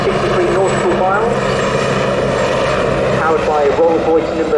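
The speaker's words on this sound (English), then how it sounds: "powered by a Rolls-Royce Nimbus 103 turboshaft engine, that's 710 SPH, that's shaft horsepower." A Westland Wasp helicopter with a Rolls-Royce Nimbus 103 turboshaft engine at the Southport Airshow gives a constant loud rotor and turbine roar with a steady whine, heard under a public-address commentator talking throughout.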